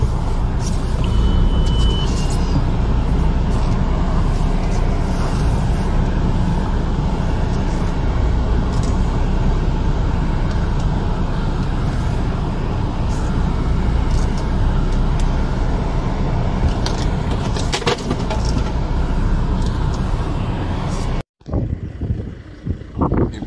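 VW Golf on a test drive in Lithuania: steady, loud road and engine rumble from inside the moving car, broad and continuous with wind and tyre noise, ending abruptly near the close.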